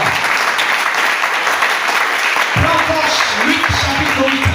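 A church congregation applauding during an evening worship service, a dense wash of clapping with tonal voices or music joining partway through.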